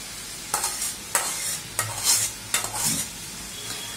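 Dried fish and green chilies stir-fry in a spiced masala, with a soft sizzle under repeated scraping strokes of a spoon in the pan, close up and with no talking.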